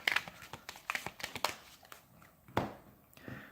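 Close crinkling and rustling as a Magic: The Gathering card deck is taken out of its cardboard box, a cluster of small scraping clicks followed by a few softer shuffles.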